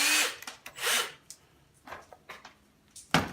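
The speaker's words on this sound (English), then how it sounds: "Drill a hole so you don't split your wood. Go to the corner, drill your hole like that." A power drill boring a pilot hole near the corner of a wood piece for a nail polish rack, with short whirring bursts that stop and start, close and with no talk.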